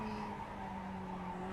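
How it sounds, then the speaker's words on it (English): LMP1 prototype race cars in a racing video game at a Campo Grande circuit, a steady droning engine whine with tyre noise, fairly faint and continuous throughout. "we're hearing some of the LMP1"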